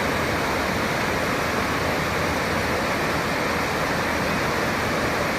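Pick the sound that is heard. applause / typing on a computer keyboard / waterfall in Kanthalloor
waterfall in Kanthalloor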